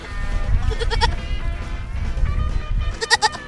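Several goats bleat in short, wavering cries, a cluster early on and another burst near the end, over a low rumbling background.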